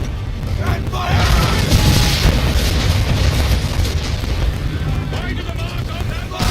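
Repeated ship cannon fire from a naval battle in Assassin's Creed III rumbles loud and sustained, with dense booming and mechanical clatter while voices shout orders over the barrage.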